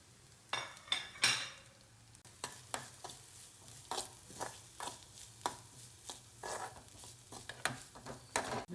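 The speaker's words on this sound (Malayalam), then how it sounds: "ബ്രൗൺ കളറാവുന്ന വരെ വറക്കണം കേട്ടോ" Shallots fry in a pan until golden brown for Kerala ulli theeyal, with a steady background sizzle and a regular series of scraping, clinking stirs of a utensil against the pan.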